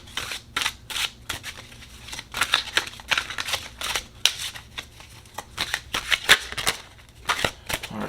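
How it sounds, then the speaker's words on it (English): Influence of the Angels tarot cards being shuffled, a run of quick crisp riffles and soft slaps close by, coming in irregular bursts with no talking. "We're going to throw cards from the Influence of the Angels Tarot deck. So let's go ahead and shuffle."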